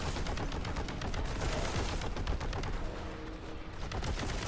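Rapid gunfire from the video game Boltgun, a dense, continuous barrage of shots and bursts filling the whole stretch at steady loudness, with no talking.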